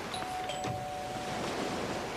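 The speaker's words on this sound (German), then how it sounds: "aber ich versuche erst mal zu klingeln." A faint electronic doorbell chimes a short tone over steady background hiss, the ring ringing out briefly and softly.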